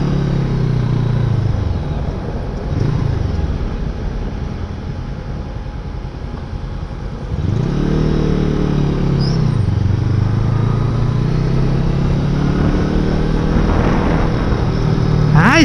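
An FKM Expres 500 SC motorcycle riding through traffic, its engine droning close and loud with rising and falling revs as it accelerates and slows, plus passing traffic noise around it.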